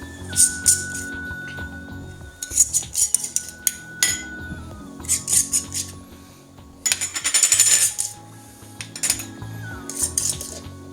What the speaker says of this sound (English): We're going to test the lids to make sure they got a good seal.